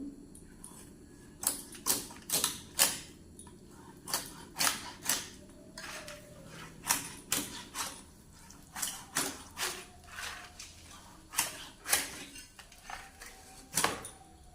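A large silver rohu fish is cut on a small boti blade, making repeated sharp scraping and crunching strokes in irregular bursts, fairly close and moderately loud, with no clear talking.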